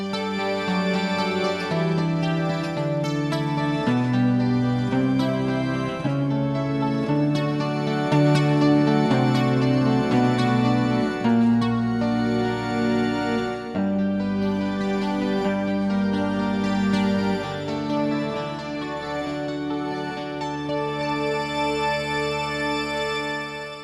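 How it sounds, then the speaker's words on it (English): Roland GR-55 guitar synth patch layering a 12-string acoustic guitar over a sustained church organ: a dense, continuous wash of chords and picked notes at a steady loud level for about twenty seconds, with no talking. "This is a 12-string acoustic guitar with a church organ underneath it,"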